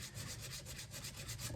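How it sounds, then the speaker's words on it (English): Sandpaper rubbing steadily back and forth on an antler, a soft, even rasping with regular strokes at close range and no voices. "John is still sanding the Antler."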